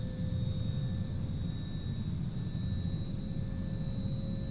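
Airliner jet engines idling and whining while taxiing in the X-Plane 11 flight simulator, a steady low rumble with sustained high tonal whines, constant and unbroken with no talk.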